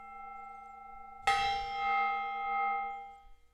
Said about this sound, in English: There's that gong.